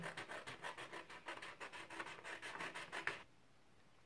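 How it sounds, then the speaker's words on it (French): Scissors cut strips of paper along a drawn line, producing a fast, even series of close, crisp snips for about three seconds before falling quiet. "je vais prendre un ciseau, tant pis, et je vais découper les trois bandes sur le trait"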